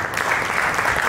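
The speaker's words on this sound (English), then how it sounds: "Can we have a huge round of applause?" Steady, dense applause from an audience at a talk honouring a global competence and intercultural learning trainer, a full, even wash of clapping with no break.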